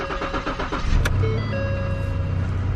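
A Ford Taurus car engine is started: a quick rhythmic cranking of the starter, a sharp click, then the engine catches and settles into a steady idle with a faint whine above it, close and fairly loud.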